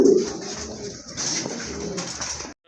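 Domestic pigeons, including a black racer, coo nearby in low, steady, rolling calls that continue for a couple of seconds and then stop abruptly.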